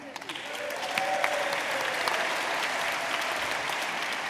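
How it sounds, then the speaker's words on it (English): A conference audience applauds steadily, a dense wash of clapping that swells in the first moment and then holds even and loud. "keep your applause going for the Cabinet Secretary for Social Justice, Alec Neil."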